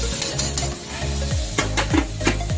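Pork frying with cabbage and bell pepper in a pan, a dense close sizzle with several sharp scraping stir strokes and light utensil clinks across a short span, no speech.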